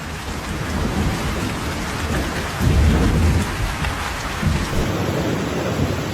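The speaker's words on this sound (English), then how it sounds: "a storm with wind speeds of over 60 miles per hour swept through China" A violent storm sweeping through a Chinese city with winds above 60 mph, heard as steady heavy rain and rushing wind with a deep rumble swelling midway, loud and continuous with no voices.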